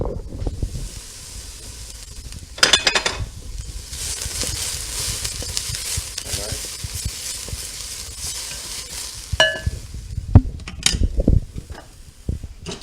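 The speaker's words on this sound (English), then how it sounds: "You can hear it sizzling." Steady sizzling hiss of peppers frying in a hot pan, with a few brief clatters and stirring noises partway through.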